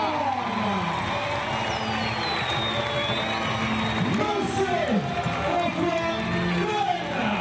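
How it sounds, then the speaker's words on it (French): A Réunion crowd cheers and shouts as a champion runner arrives at the Grand Raid finish. The roar and whoops are continuous and lively, with commentary over it. "Sous les acclamations nourries du public réunionnais."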